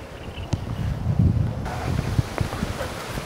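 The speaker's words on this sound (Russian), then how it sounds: "Ух, смотрите, какой ветер." Strong wind buffets the microphone in low, rumbling gusts, with a few sharp rustles and knocks mixed in.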